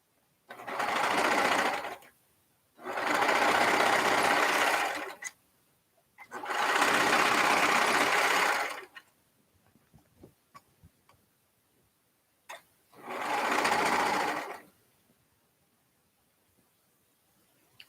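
Sewing machine stitching a bag liner, four separate bursts of rapid steady whirring, each a second or two long, with quiet gaps of small handling clicks between them.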